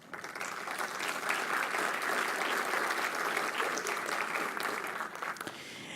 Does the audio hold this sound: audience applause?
yes